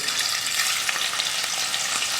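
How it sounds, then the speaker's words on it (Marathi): Marinated prawns fry in hot oil in a kadhai, a loud, steady, close crackling sizzle with no talking. "त्यामध्ये ही मुरवत ठेवलेली कोळंबी फ्राय करायची आहे"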